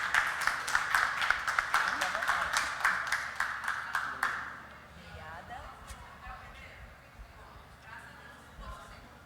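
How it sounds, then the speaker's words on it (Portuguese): Audience applause following a speaker's introduction at a conference session, a dense burst of clapping for about four seconds that then fades, leaving quieter room noise and a few scattered claps. "Uma salva de palmas para o Agustín."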